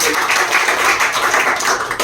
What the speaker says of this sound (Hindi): जोरदार ताली होना चाहिए स्वाति